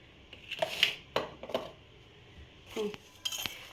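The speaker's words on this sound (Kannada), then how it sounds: "ಸೊ ಇದನ್ನು ಚೆನ್ನಾಗಿ ಇವಾಗ ಮಿಕ್ಸ್ ಮಾಡಬೇಕು" Spoon scraping and clinking against a bowl while mango pickle is mixed, several short metallic taps and scrapes in uneven bursts, close and fairly clear with pauses between.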